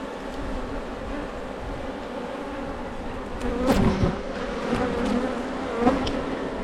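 Dense, steady buzzing of many honeybees close by in a honey-filled hive, a continuous droning hum with a few louder swells as individual bees pass near.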